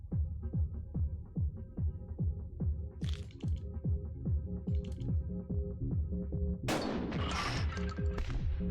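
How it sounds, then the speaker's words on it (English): Three gunshots in a video game ring out a couple of seconds apart, the last the sharpest, over a steady rhythmic throbbing background loop. "3 shots fired"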